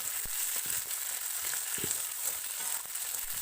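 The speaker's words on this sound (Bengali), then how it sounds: "খুব ভালো করে নাড়াচাড়া করলেই আদা রসুন ও পেঁয়াজটা ভাজা ভাজা হয়ে যাবে" A continuous sizzle of ginger, garlic and onion frying in a pan, with occasional soft scrapes and stirring knocks, moderately loud and close.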